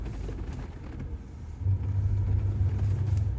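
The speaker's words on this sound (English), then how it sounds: "I'm just letting her crawl down this steep hill all by herself." Jeep Gladiator engine rumbling low and steady as it crawls down a steep off-road hill under hill descent control, a close, deep drone that thickens partway through.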